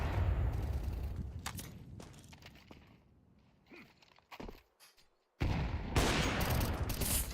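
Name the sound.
sniper rifle gunfire from a video game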